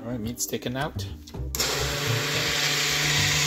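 A blender purees yogurt with Korean miso marinade, roaring up loud and steady right after someone speaks briefly, then whirring on without a break.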